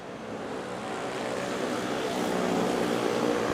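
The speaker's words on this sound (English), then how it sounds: "321 Philippine Airlines just landed, touching down" A Philippine Airlines Airbus A321 lands at Manila airport (NAIA), giving a broad rushing jet roar that swells steadily and holds at a moderate distance.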